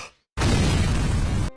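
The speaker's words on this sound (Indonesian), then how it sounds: "terjadilah ledakan di rumah itu" An explosion inside a house in a horror film bursts in suddenly after a moment of silence, a loud, broad roaring blast that holds for about a second before cutting off.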